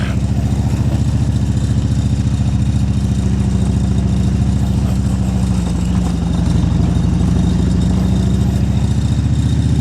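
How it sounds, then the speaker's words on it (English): A Harley-Davidson Road King rumbles along a gravel off-road track, its engine loud and close, a steady low throb that holds for the whole stretch and swells slightly near the end. "this was the first time y'all got to see me ride my Road King off-road"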